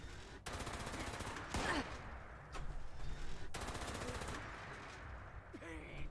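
Automatic gunfire in Fallout 76 bursts out in two long stretches of rapid, steady shots, fairly loud and close, separated by a short quieter pause with a few scattered sounds.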